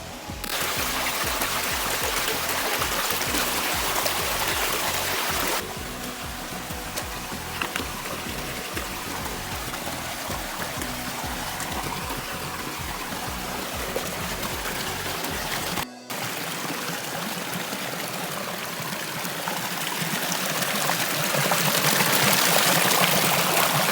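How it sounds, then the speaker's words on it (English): Steady trickling, babbling clear stream water close by on Miyajima Island, Japan, with a constant rushing wash and faint rhythmic knocking, continuing for the whole stretch with no talking. "The water here is very clear. It's just so clear. I will let you listen to the water."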